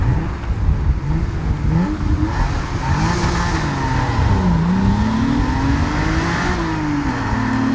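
A Honda NSX pulls away hard from the start, its engine loud and close, climbing in pitch through the revs with a brief dip at a shift before rising again over continuous road noise.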